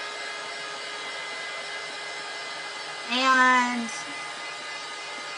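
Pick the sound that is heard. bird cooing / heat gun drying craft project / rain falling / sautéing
heat gun drying craft project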